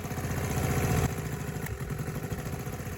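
Aermacchi Harley-Davidson 350 single-cylinder Grand Prix racing motorcycle engine running steadily nearby, a rapid thumping pulse with clattering mechanical tone, slightly louder in the first second, heard alone.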